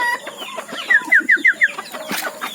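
Backyard chickens give a quick run of five sharp, close clucks in a steady rhythm, followed by softer fowl calls, with no talking.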